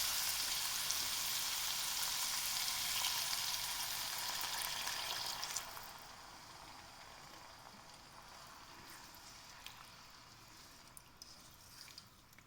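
Water poured onto rice frying in a pot brings a loud sizzling hiss that drops midway to a quieter bubbling simmer, with a few faint clicks near the end.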